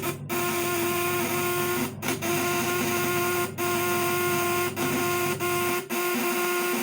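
A 1000 W high-voltage electric fish stunner turned up to full power gives off a steady, loud electrical buzz and hum, broken by a few brief dropouts, with no speech.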